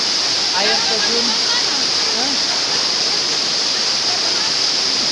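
Waterfall in a dense forest, a loud, steady rushing roar of falling water filling the whole scene, with faint voices briefly audible beneath it early on.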